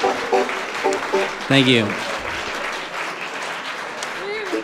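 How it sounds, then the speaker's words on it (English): Applause rises from the crowd at a bluegrass and Americana festival concert in Berlin after a joke, steady clapping with a few voices and a brief thank-you spoken over it. "I've been recording all of the applause every night when we tell that joke."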